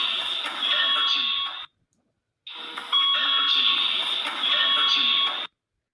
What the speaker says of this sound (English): Everyone wakes up to this loud alarm coming from above in the speakers